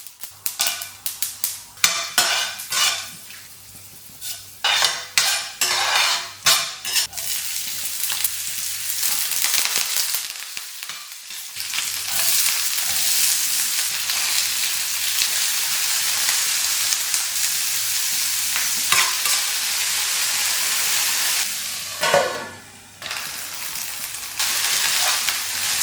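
Mustard seeds, chana dal and split cashews sautéing in oil and ghee, with sharp crackles and pops early on and then a steady, close sizzle and hiss, broken by a few stirring knocks against the pan.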